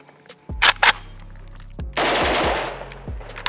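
A Pioneer Arms 556 Sporter AK rifle fires with a bulgy magazine, a few sharp close shots followed by a quick burst of rapid reports outdoors.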